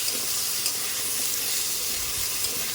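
Diced potatoes drop into a spice paste frying in a pan for a Bengali fish chorchori, giving a steady, close, loud sizzle with faint stirring scrapes and no talking.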